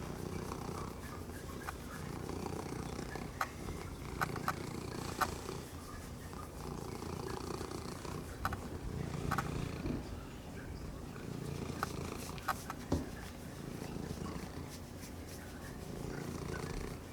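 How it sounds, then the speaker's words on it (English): A close-up kitten purrs steadily and continuously for the whole stretch, a low rumbling hum with a few soft bumps and rustles of handling on top. "That'll make you purr really big."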